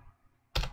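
A short burst of computer keyboard typing enters abruptly after a quiet stretch, close and fairly loud, as an IP address is entered while configuring a MikroTik router's port-forwarding rule.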